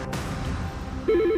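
An office telephone rings in a radio advert, a clear electronic warbling ring of quick repeated pulses starting partway through over quiet background, with no talk.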